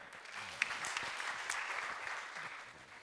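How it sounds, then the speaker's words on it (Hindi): Applause from an audience at a spiritual introduction talk session, steady broadband clapping throughout, moderately distant and fairly faint, with no talking. "तालियां हो जाए।"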